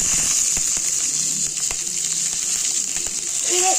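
Chutney ingredients sautéing in a pan give a steady close sizzle and hiss, with faint stirring taps running under it.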